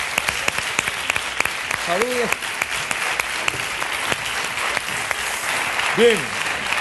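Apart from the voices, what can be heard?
audience applause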